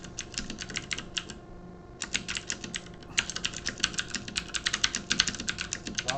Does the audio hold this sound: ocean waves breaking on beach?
no